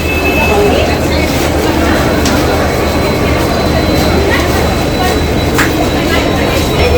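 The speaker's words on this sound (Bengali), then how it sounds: "এই ট্রেনটিতে করেই আমরা এলাম" Kanchankanya Express passenger train at Siliguri station, a continuous loud rumble of rail cars with steady low drone and occasional metallic clicks, station bustle and voices mixed in throughout.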